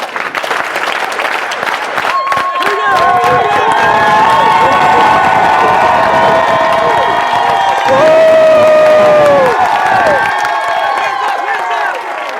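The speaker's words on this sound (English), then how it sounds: "Slow clap. Ooh, we get a slow clap." A crowd of over 300 fitness leaders at a convention claps in unison and cheers, with sustained loud whoops and shouts above the steady clapping.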